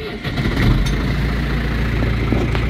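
A John Deere 2140 tractor engine runs with a loud, steady low rumble close by, holding an even idle throughout with a voice talking faintly over it.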